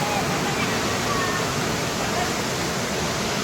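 A waterfall rushes at full force close by, a loud, steady, unbroken roar of pouring water that fills the whole clip.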